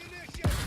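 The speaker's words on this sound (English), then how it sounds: "Grenade!" A grenade goes off in the ARC Raiders video game: one sudden, heavy low boom rises abruptly out of quieter game noise and a voice, then rumbles on briefly.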